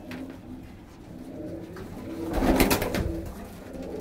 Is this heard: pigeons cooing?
yes